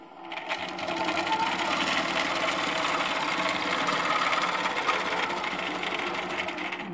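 Sewing machine running steadily while stitching curvy crosshatching lines on a quilt, a loud, continuous rapid mechanical chatter from start to finish with no pauses and no talking.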